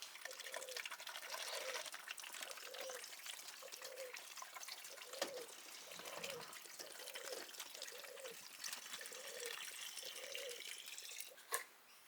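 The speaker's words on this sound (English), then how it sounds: "Let's put the fuel first." Petrol trickles into a container for two-stroke mix for a whipper snipper, a thin gurgling stream glugging in a regular rhythm, close and fairly quiet.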